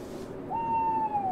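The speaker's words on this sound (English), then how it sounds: "Is there an owl?" A single drawn-out owl hoot from the Boogeyman video game, a clear, steady tone that rises in, holds and slides down slightly over about a second against a faint ambient hush.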